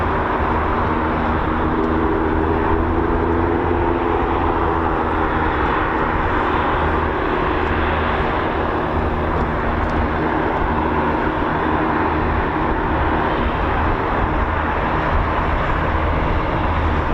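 Shadow R1 aircraft at RAF Waddington with its engine running steadily for the whole span, a loud, continuous droning roar with a low throbbing hum and no voices.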